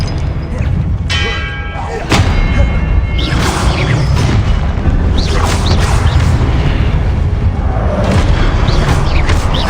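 A Confringo spell explodes in Hogwarts Legacy with a sharp boom and whooshing, ringing magical effects. Loud game sounds layer over each other, and a voice shouts spell names over the blasts.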